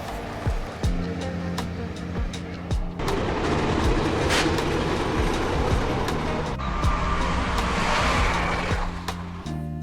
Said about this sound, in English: There weren't many trains during the night